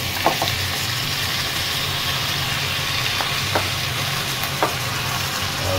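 Pork for adobo with pineapple stir-fries in a hot pan, a steady loud sizzle with a few sharp scraping clicks of a utensil stirring the meat.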